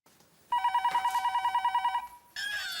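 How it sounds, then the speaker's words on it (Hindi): A telephone rings late at night, a loud, close electronic bell trilling in quick regular pulses for about a second and a half before cutting off into other sound. "इतनी रात को किसका फोन आया होगा?"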